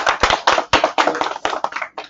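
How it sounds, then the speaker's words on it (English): A Toastmasters meeting audience claps hard and steadily for about two seconds: dense, close, loud hand claps with irregular peaks and no talk over them. "And we clap hard."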